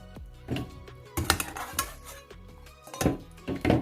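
Cooked potato being tipped into a blender at home for mashed potatoes: several clattering knocks and scrapes of utensil against dish and blender jar, close and uneven, with no speech.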